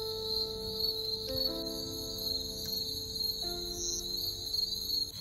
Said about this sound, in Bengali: ঝিঝি পোকার ডাক, নিস্তব্ধতা,